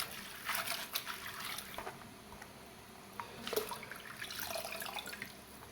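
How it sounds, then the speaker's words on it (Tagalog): Pancit noodles are washed under running tap water in a sink, a faint steady trickle with soft splashing bursts as the noodles are handled. "Hugasan ito ng mabuti para makuha ang karbonato sa pansit."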